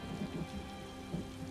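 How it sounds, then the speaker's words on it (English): Heavy rain pours steadily in Elder Scrolls Online, a dense hiss of falling water with low rumbles of thunder rolling underneath, no voices. "And it's raining cats and dogs."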